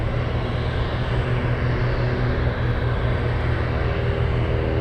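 A China Southern airliner flies near Anchorage airport, its engines giving a steady, loud roar that holds evenly throughout with no voices.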